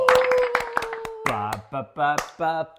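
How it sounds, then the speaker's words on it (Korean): A few quick, close hand claps ring out alongside a held vocal tone in a Korean talk-show setting, followed by lively speech and vocal sounds from the hosts. "박수!"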